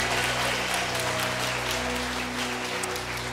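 Continuous applause from a church congregation, steady and dense, fills the room with no break; a low hum sits underneath.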